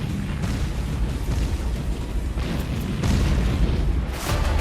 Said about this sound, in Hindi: यह है डीआरडीओ की सबसे advance toad artillery gun 155 mm और 52 कैलिबर की विनाशक तोप